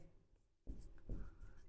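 Chalk or pen writing out a quadratic equation in a maths lesson, heard as two short scraping strokes, one near the middle and one shortly after, faint and close with no talk over them.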